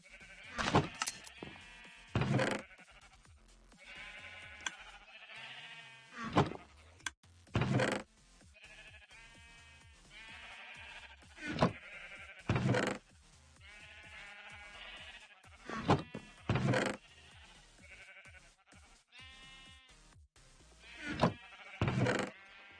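A flock of sheep keeps up a steady chorus of bleats, several animals calling close by in overlapping, wavering cries that recur every few seconds over a continuous low murmur.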